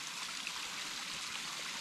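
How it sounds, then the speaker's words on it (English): A small waterfall at the base of a tree along the Ya-Hub-Weh-Tuh Trail in the San Joaquin River Gorge makes a steady, close, hissing rush of falling water, with no voices. "little waterfall at the base of this beautiful tree"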